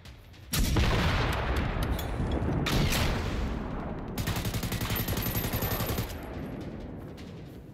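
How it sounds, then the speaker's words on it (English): Heavy .50 caliber experimental rifle fire in the video game Generation Zero, loud sustained blasts with booming reports and a rapid rattling burst toward the end, fading off. "that experimental 50 cal is not a quiet weapon system"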